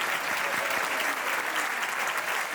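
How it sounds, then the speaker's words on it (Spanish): An audience applauds a school choir from Colegio Público Cabueñes at a stage event, a dense, steady wash of many hands clapping throughout. "Con un fuerte aplauso."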